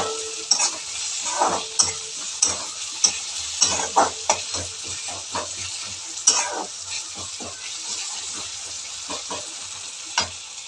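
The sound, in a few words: bombil (Bombay duck fish) pieces frying in oil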